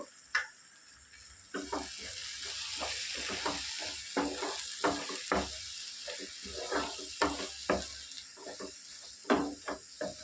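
Chili powder, coriander powder and cumin powder are stirred into a sizzling chicken curry, the spoon scraping the pan in a steady series of short rhythmic strokes over a constant hot hiss, with no talking.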